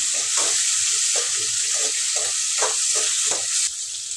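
Small onions and chopped tomato sautéing in a pan for sesame chutney, a steady bright sizzle with repeated scraping stirs of a spoon at an even rhythm, close and continuous, with no voices.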